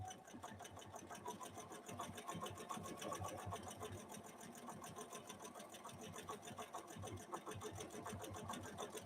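A Bernina Activa 130 sewing machine stitching an intricate pattern through thick denim, a fast, even mechanical chatter running close and steady throughout with no voices.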